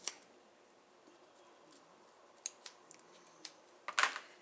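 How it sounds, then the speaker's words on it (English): Small scissors snip the thread ends of an in-the-hoop embroidered coin pouch key chain, giving a few faint, sparse clicks against near silence, then a brighter snip cluster toward the end. "now I'm going to trim some of my threads"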